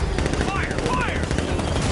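Rapid automatic gunfire in a Batman video game, dense continuous bursts with raised voices shouting over the shooting.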